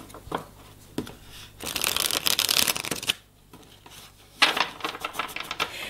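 A deck of cards is shuffled in two bursts of rapid riffling with a quiet pause between them, close and fairly loud, to draw a summary card.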